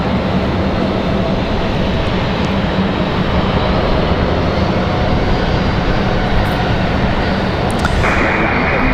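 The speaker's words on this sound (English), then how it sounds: "So American touching down" An American Airlines airliner touches down at Raleigh-Durham, a loud, close, continuous rushing engine roar filling the whole stretch without talk.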